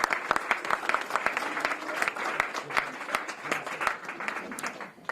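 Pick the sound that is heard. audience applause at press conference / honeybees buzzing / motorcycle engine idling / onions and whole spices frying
audience applause at press conference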